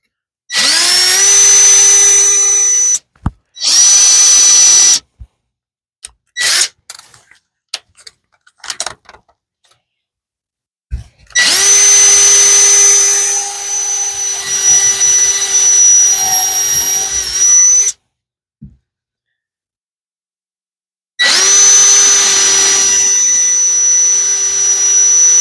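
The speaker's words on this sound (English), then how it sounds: "So I want to drill" Power drill boring holes into a piece of wood for a bird nesting feeder, with several loud bursts of steady whining motor sound, separated by short pauses and quiet handling noises, and no talking.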